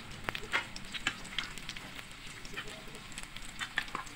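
Garlic and onion sizzle steadily in a hot pan while chopped lechon goes in for lechon paksiw, a continuous close frying hiss with small crackles and pops throughout.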